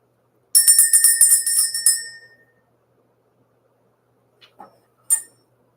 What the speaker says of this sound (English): Let's ring the bell. Let's clear out the energy.